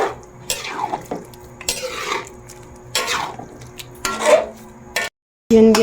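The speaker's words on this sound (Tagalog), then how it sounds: "At atin po rin haluin." Someone stirs a dish in a metal pot, making several scraping, clattering sweeps of the spoon against the sides with short pauses between them and a brief silence near the end.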